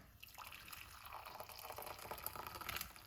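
Fresh lemon and ginger tea poured off in a steady, soft liquid stream with faint splashing, quiet and close, no talking.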